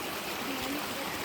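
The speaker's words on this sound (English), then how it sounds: "Crossing sulfate rivers." Water of a sulfate river streams and trickles steadily on a jungle hiking path near a Russian volcano, a continuous broadband rush close by with no clear voices.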